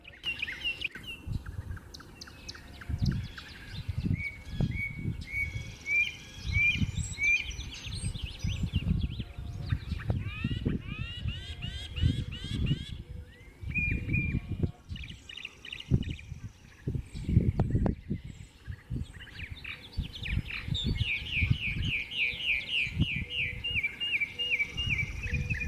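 Songbirds sing in a busy, continuous chorus of chirps, trills and repeated whistled phrases, some mimicking a car alarm's looping electronic tones, over a steady low rumble of background noise.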